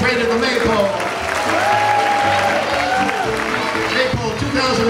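Crowd applauding at an elementary school maypole assembly in 2019, sustained clapping blended with chatter and a loud voice over the top, continuous and fairly close for the whole stretch.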